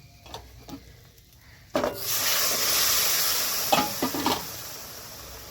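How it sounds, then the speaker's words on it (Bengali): Quiet scraping gives way to a sudden loud surge of sizzling as chickpea dal hits the hot pan, then a steady hiss with a few stirring knocks. "এবারে এর মধ্যে ডালটা দিয়ে দেবো"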